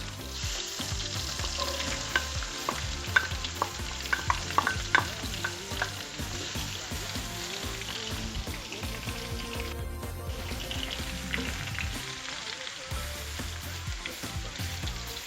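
A whole yellow onion and a red onion sweat in a pan over moderate heat, giving a steady, close sizzle with frequent stirring clicks and scrapes throughout, no one speaking.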